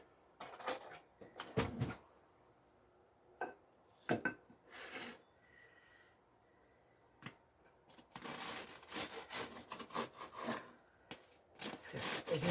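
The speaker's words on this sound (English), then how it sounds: "And we're going to cut this nice bread." Knife sawing through a cheese and green onion focaccia-style bread on a wooden board, heard as several bursts of rasping strokes with quiet gaps between them, close and moderately loud.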